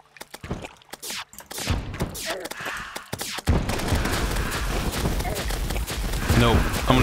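Laser gun firing in Terraria during a modded boss fight, a rapid run of sharp zapping shots that builds into dense continuous fire with game noise, under talk throughout.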